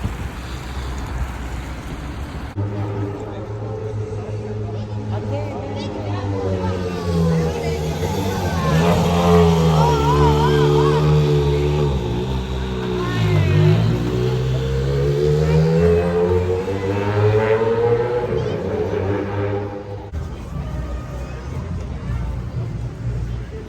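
Rally cars in the streets of Monaco roar past with rising and falling engine notes, loud and close, sweeping up and down in pitch over steady background noise and wind.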